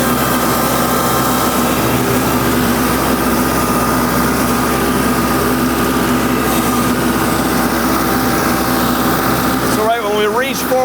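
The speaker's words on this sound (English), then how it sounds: "We can angle the mower down. We can reach down into this stream bed." A Laneshark Hammerhead mower attachment runs on a four-wheel-drive tractor loader reaching into a stream bed, a loud, steady mechanical drone with engine hum throughout, and someone talks near the end.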